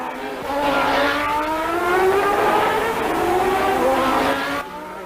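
Formula One race cars at the US Grand Prix in Phoenix scream past on a street circuit, a loud high engine wail rising and shifting in pitch as a car nears and passes, with no talk.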